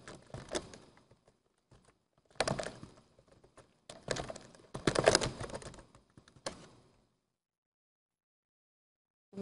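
Keys clatter on a computer keyboard as an item number is entered, arriving in several short, close bursts of clicks separated by brief pauses before falling silent.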